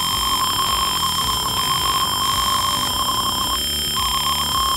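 An alarm circuit sounds a steady, loud electronic buzzing beep tone with a pulsing, repeating pattern that runs the full length without pause, and no voices are heard.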